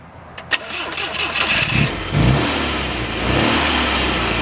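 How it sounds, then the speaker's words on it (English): A 1969 MGB Roadster fitted with an auxiliary oil cooler cranks and fires up close by, the starter's whir catching into a steady mid-pitched engine note that settles toward idle, with a few faint voices in the background. "We're going to fire this car up and let you take a listen."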